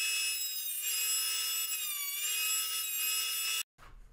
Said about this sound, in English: We start at the planer. We plane it down to 13/16 of an inch.